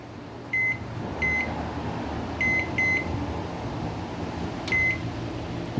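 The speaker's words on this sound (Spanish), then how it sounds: "vamos a poner en funcionamiento nuestro microondas para que vean." A Mabe microwave oven with a heating fault runs with a steady low hum, while several short high electronic beeps sound at irregular intervals, close by and alone without talk.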